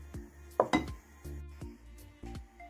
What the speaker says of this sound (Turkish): Kaynayan suyumuza yavaş yavaş hamurumuzu ilave edip karıştıralım.